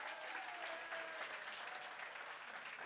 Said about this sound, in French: je veux, s'il vous plaît, un max d'applaudissements pour le professeur docteur Michel Yaesman qui est là